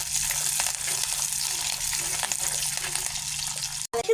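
A paste of ginger, green chili, curry leaves, shallot and garlic sautéing in a pan sizzles in a steady, bright frying hiss for several seconds, ending with a sharp clack.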